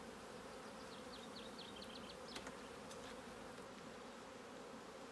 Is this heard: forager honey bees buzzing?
yes